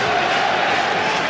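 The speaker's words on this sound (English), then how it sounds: "The crowd showing plenty of desire for Charlton to build on what has been a tentative start." Football stadium crowd at a Charlton Athletic v Southampton match, a loud, steady roar of many voices filling the ground.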